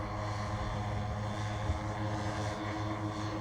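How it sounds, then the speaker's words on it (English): A large 20-foot-span scale model C-130 Hercules flying on four 20cc Poulan weed-whacker gas engines, giving a continuous, steady buzzing propeller drone with strong engine harmonics, fairly loud and close, without speech. "It is flown by 4 Poulin Weed Whacker engines, and they're all gas engines, 20 cc's."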